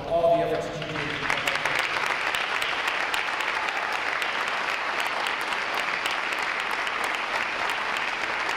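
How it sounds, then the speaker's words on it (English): An audience breaks into sustained applause at a naval ROTC graduation ceremony, steady clapping from many hands filling the space after a brief voice at the start. "I want to give you a round of applause for all the efforts that you've made."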